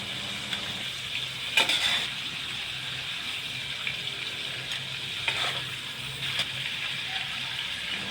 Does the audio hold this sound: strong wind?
no